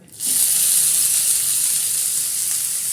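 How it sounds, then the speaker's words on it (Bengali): Chopped onion, ginger, garlic and chili are dropped into hot mustard oil and burst into a loud sizzle that stays strong and steady for several seconds. "এবার এটাকে ভালোভাবে আমি এটা ভেজে নিচ্ছি"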